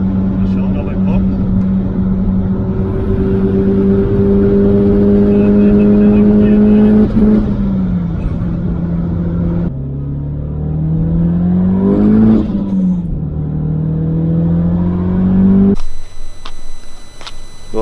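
An Audi S3 fitted with a GTX30 turbo accelerates hard on the Autobahn, its engine droning and rising in pitch through gear changes with brief dips between shifts, loud from inside the car, with someone talking excitedly over it.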